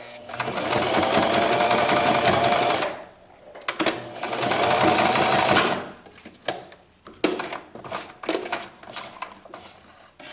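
A sewing machine stitches a 1/8 inch seam in fabric, humming in two sustained runs of a few seconds each, followed by scattered clicks and fabric handling.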